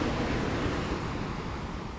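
Ocean waves wash in a continuous, even hiss of surf at a moderate level, with no voices.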